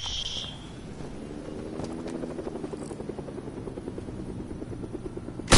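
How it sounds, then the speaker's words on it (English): Rhythmic thumping rotor chop of a helicopter in the video game Fortnite, steady and moderately distant, with a brief voice at the very start. "I don't see the helicopter."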